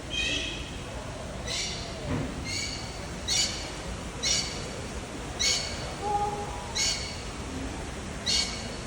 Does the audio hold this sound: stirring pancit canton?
no